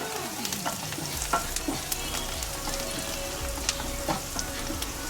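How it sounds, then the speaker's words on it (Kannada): Onions with turmeric fry in a pan for egg fried rice, a soft steady sizzle with repeated spatula taps and scrapes as they are stirred, close and quiet with no talking. "ಎಲ್ಲ ಚೆನ್ನಾಗಿ ಒಂದು 5 ನಿಮಿಷ ಫ್ರೈ ಮಾಡ್ಕೊಳ್ಳೋಣ."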